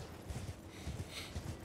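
A horse's hooves clip-clop in a quick, even trotting rhythm while riding in the video game Elden Ring, close and moderately quiet against a soft background hum.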